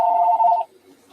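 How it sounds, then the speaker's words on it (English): A single phone ring sounds close and loud as one clear electronic tone lasting just over half a second, then breaks off into near silence. "Your phone's ringing."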